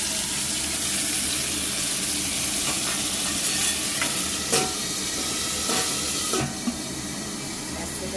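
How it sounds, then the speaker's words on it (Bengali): Eggplant sizzles in hot oil in a pan: a loud, dense, steady frying hiss sprinkled with sharp crackles and spits, easing slightly partway through, with no speech. "এবার তেলে বেগুনটাকে দিয়ে দিই।"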